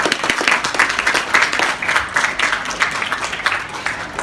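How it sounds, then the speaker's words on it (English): Wedding guests applaud together at a reception honoring Ruby and Andrew, a steady crowd of claps, close and fairly loud, sustained throughout with no talk. "Just want to give everyone a round of applause for helping out today."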